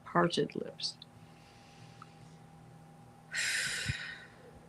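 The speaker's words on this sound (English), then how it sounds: "let's begin by taking 3 deep breaths. Exhale through parted lips." A deep breathing exercise: a spoken instruction is followed by a long audible exhale through parted lips, a soft breathy rush lasting about a second, close and quiet.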